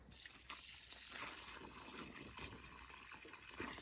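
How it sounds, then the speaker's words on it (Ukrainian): Steady rush of water poured onto a freshly planted seedling in soil, splashing close by, continuous for a few seconds with small gurgling bursts. "Тепер добре заливаю водою."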